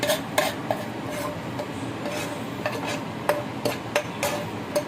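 A metal spoon stirs Mangalore-style chicken kori sukka masala in a pot, making close, irregular scraping and clinking strokes against the metal with no voices.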